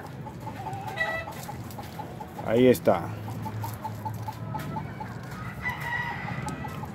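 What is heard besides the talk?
rooster crowing and clucking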